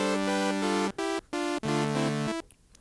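An Arturia PolyBrute synthesizer on its init patch plays a series of short bright sustained notes and chords, separated by brief gaps, clean and moderately loud with no talking, ending in a faint decay.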